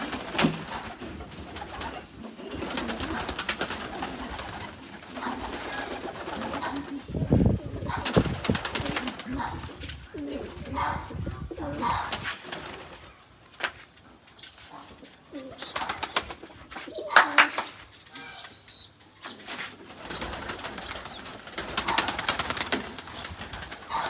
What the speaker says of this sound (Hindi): चलो सारे कबूतरों निकलो बाहर।